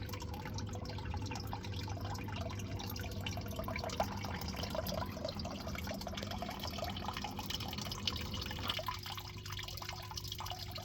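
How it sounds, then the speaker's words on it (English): Water drains steadily from a koi pond sump as a pump empties it, giving a constant trickling wash with scattered drips that eases slightly near the end. "The ball dropped and the sump's emptying."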